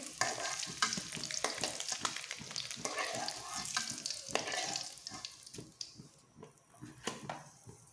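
Eggs frying in oil in a pan, with a lively sizzle broken by repeated scraping stir strokes and soft clatter, continuous at close range and easing off toward the end.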